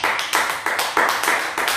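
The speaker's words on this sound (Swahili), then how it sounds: "Muongezee Yesu tena makofi." A church congregation claps for Jesus during a prayer service, with several loud, dense bursts of applause in quick succession and no voices.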